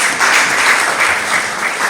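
Church congregation applauding and cheering loudly for the Lord at a birthday service for a pastor's wife in Portland, Maine: dense, steady clapping from many hands filling the space, with scattered shouts mixed in and no pauses.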